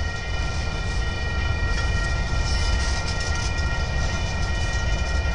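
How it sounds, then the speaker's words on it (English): Union Pacific train rolling past railroad tracks at Wabasha and Fillmore Avenue, a loud, steady broadband rumble and rail noise filling the whole stretch with no letup. "I kept filming about this train because I'm a train freak and a train specialist."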